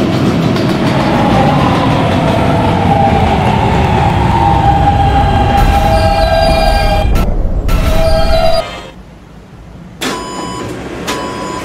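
A Roblox D subway train runs with a loud continuous rumble and wheel noise, then slows; rising whine tones and a brief cut to quieter station ambience follow near the end.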